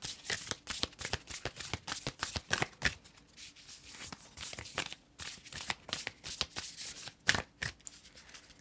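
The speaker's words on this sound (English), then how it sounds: "We're going to pull one final card from the Universe Has Your Back." Tarot cards from The Universe Has Your Back deck being shuffled by hand: rapid, close papery riffles in bursts, with a quieter stretch midway before the shuffling picks up again, and no talking.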